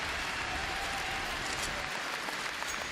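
Home crowd roaring and applauding at a CS:GO grand final in Denmark, a dense, steady wall of cheering that holds through the whole stretch with no break.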